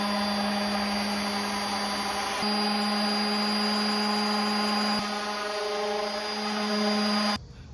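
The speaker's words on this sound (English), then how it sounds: "I'm gonna sand this thing down, make sure that it feels really, really good" Power sanding of a wooden desk top gives a continuous, loud motor whine with steady tonal hum, alone without talk, cutting off abruptly near the end.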